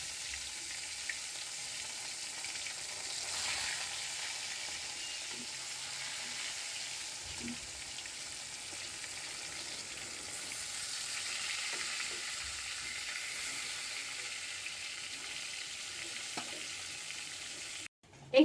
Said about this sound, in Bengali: এখানে আমি একটা ভাজার জন্য কড়াই বসিয়েছি, পরিমাণ মতো তেল দিয়েছি। এখন মাছগুলো ভেজে নিব।